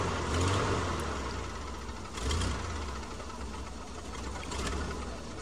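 A vintage Willys Jeep engine roars close and loud while climbing a steep rocky trail at Hells Gate, its revs surging, dipping and surging again in uneven waves.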